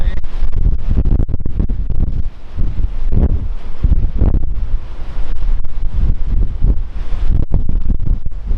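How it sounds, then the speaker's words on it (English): Strong wind buffets the open deck of the Regal Princess cruise ship on a choppy sea, a loud continuous roar with gusty surges, likely with waves mixed underneath. "It's a little bit windy and a little bit choppy today."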